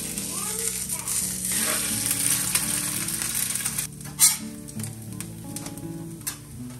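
An egg frying in olive oil on an electric griddle makes a loud, steady close sizzle, then a thump and scrape as it is flipped, with background music underneath.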